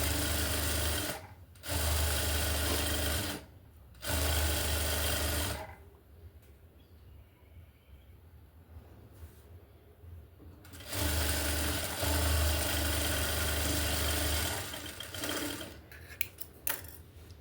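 An electric sewing machine stitches a blouse piece with high puff sleeves in several loud, steady whirring runs separated by quiet pauses, with a final stretch of faint handling and small clicks.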